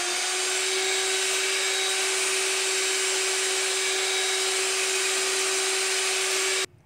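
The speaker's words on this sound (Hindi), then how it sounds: "अब हम चीनी डालेंगे और इसे बीट करते जाएंगे।" An electric beater whips eggs with sugar and milk for a strawberry cake batter, a steady close whirring whine that holds evenly and then cuts off abruptly at the end.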